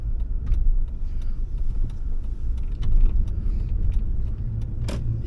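A car drives along with a constant low engine and road rumble heard from inside the cabin, joined by faint clicks and small rattles, with no one talking.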